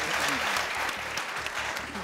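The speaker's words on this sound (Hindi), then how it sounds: "बड़ा जोर से बजाओ तालियां यार" Studio audience applause for a quiz contestant on a television game show, a dense burst of hand clapping heard close with a faint voice underneath.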